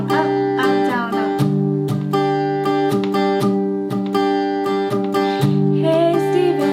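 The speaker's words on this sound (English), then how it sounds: "Now let's throw in a technique that she uses when she plays a song live called palm muting." An acoustic guitar is strummed with palm muting in a down-up pattern, its chords short, clipped and percussive, played close with no talking.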